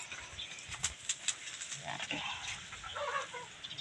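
Farm chickens kept behind a house cluck and squawk in short bursts, quiet and a little distant, with faint background noise and brief human sounds in between.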